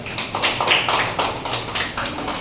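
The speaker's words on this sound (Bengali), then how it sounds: "জোরে হাততালি দেবেন ওনাকে।" Audience at a district social worker joining-letter ceremony in Malda clapping steadily, a dense, loud, continuous patter of many hands throughout.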